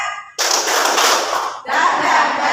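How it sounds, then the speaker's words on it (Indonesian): A school class clapping together in a 'tepuk semangat' clap chant: a sudden dense burst of many hands clapping fast, breaking off briefly and then resuming just as loud. "Tepuk semangat."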